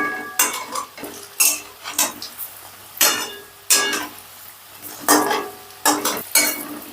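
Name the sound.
egg fritters being flipped while frying in a pan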